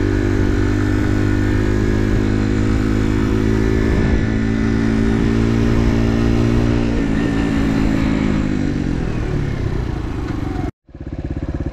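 Chinese supermoto motorcycle engine revving loudly up close, a steady droning idle that climbs and falls through several throttle blips before cutting off abruptly near the end.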